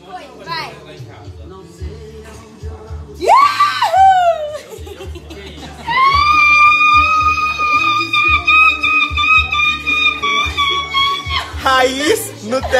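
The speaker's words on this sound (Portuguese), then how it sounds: "faz uma demonstração de grito aí, de modão sertanejo" A woman lets out a long, high sertanejo-style shout in the Brazilian modão manner, rising sharply and then held as a sustained wail over a rhythmic guitar backing, with voices and laughter around it.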